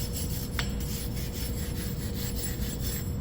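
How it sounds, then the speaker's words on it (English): A wire brush scrubs over a wheel hub, where wheel studs are being replaced, giving a steady dry raspy rubbing that continues for a few seconds, close and moderately loud, with no talking. "I'm going to run a wire brush on this"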